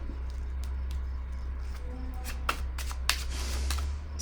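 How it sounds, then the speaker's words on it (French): Tarot cards rustle and slide as one is laid down, with a few sharp, close clicks and snaps over a steady low electrical hum. "Je vais déposer une carte ici."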